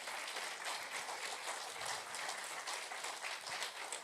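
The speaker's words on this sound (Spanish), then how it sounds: "Denle un aplauso al Señor." A church congregation claps for the Lord during a sermon, a fairly faint but steady wash of many hands applauding continuously with no talking over it.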